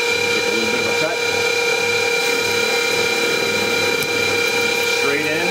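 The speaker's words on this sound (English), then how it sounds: "Go back and turn the spindle on. Take a little bit of a cut." A metal lathe takes a light roughing facing cut on a workpiece, a continuous loud mechanical whir with tonal spindle hum and steady cutting noise throughout.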